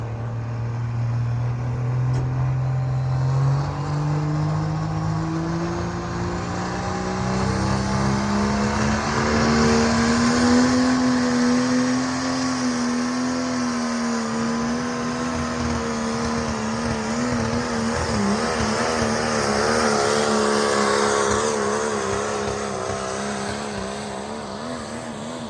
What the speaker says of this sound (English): pulling his own truck, Iron Maiden.